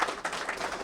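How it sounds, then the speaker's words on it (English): An audience gives a round of applause at a special-remarks event on technology and student learning, a dense, steady wash of many hands clapping for just under a second with no voices above it. "Let's have a round of applause for T-Mobile."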